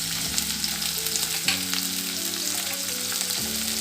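Chopped small onions and green chillies frying in a pan, a continuous bright sizzle with a low steady hum underneath and occasional stirring shifts, loud and close, with no voices.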